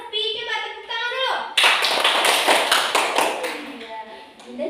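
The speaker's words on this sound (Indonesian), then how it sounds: "Coba tepuk tangan dulu" Students in a class break into a short round of hand clapping, loud and close, lasting about two seconds between stretches of a voice talking.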